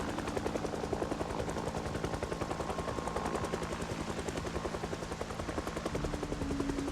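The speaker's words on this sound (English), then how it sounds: "helicopters make a lot of noise" A helicopter hovers overhead in the video game Project Zomboid, its rotor chopping in a fast, even pulse with a low engine drone beneath, continuous and fairly loud throughout.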